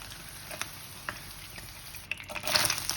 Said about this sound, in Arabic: انا عايزة بقى احمر الفليه في الزيت ياخد لون كده ويحمر